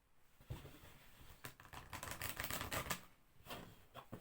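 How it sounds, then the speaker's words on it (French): Oracle cards being shuffled for a nine-card draw, a faint, close run of riffling, flicking card sounds in quick bursts. "On va faire un tirage en 9 cartes."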